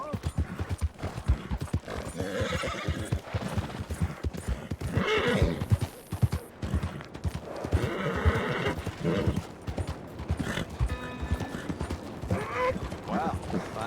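A horse in Red Dead Redemption 2 clip-clops along with a rhythmic run of hoofbeats, snorting and letting out neighs and whinnies over creaking tack, fairly close and clear.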